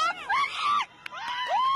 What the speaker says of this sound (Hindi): चीख पुकार सुनिए।